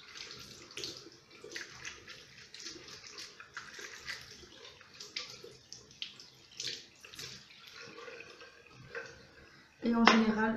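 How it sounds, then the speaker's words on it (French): Water splashing and dripping as a face is rinsed with washable cotton pads and a small sponge during an evening skincare routine, soft intermittent splashes close by with a louder running-water burst at the end. "Ensuite, je rince avec deux petits carrés lavables, coton lavable, hein, petite éponge."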